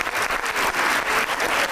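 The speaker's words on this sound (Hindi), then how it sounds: "अरे तालियां।" A studio audience on a Pakistani entertainment show applauds, a dense, steady burst of clapping throughout with no speech on top.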